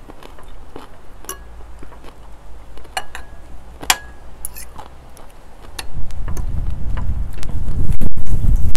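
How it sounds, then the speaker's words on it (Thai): Strong wind blows across a home vegetable garden of eggplants and chilies, scattered rustles and clicks giving way to loud, rumbling gusts buffeting the microphone that build over the final few seconds. "นี่นะลมเพื่อนๆเอ้ย"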